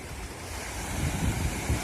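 Sea waves at Kalapathar beach on Swaraj Dweep (Havelock Island), Andaman, a continuous surf wash with gentle swells rising toward the end, mixed with wind rumble on the microphone and no voices.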